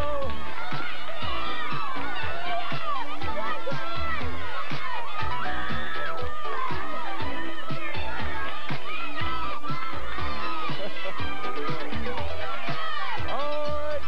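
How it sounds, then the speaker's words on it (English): Kids cheer on teams in a macaroni game, their loud, continuous excited chatter and shouting filling the room throughout. "Cheer them on, gang."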